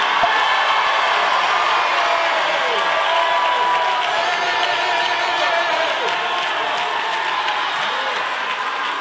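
A small audience at a church workers' conference screams, claps and stomps all at once, a continuous roar of crowd noise that holds at steady loudness for several seconds.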